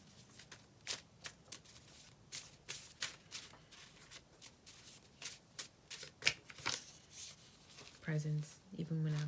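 Oracle cards shuffled by hand in a steady series of close, crisp riffling bursts, with a voice briefly heard near the end.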